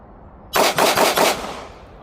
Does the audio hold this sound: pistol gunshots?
yes